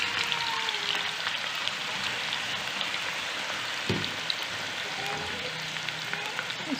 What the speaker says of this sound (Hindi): ये देखिए हम इसे फ्राई करना शुरू करेंगे।